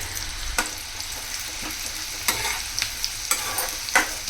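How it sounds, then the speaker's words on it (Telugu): Sliced onions dropped into hot oil and frying for biryani give a steady close sizzle, with occasional spoon scrapes and clinks against the pan and no talk. "ఆయిల్ అయితే వేడెక్కిపోయింది. ఆనియన్స్ వేసేసుకుంటున్నాను"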